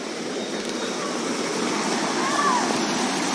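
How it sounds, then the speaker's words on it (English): Fountains splash and stream steadily in the Mughal-style Achabal garden in Kashmir, a constant close rush of falling water with someone speaking over it. "Look here how the fountains are looking very beautiful."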